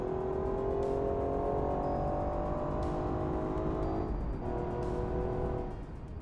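A replica 1963 Ferrari 330 America with a V12 engine, driven in the BeamNG game, accelerating hard out of a corner. The engine note is loud, close and steady, with regular brief dips at each gear change.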